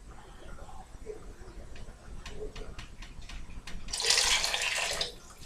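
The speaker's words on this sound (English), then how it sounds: "So, I'm going to add another cup of water." Near the end a cup of water is poured into a pot for rice, a brief, bright splashing gush lasting about a second after some quiet kitchen ticks and clinks.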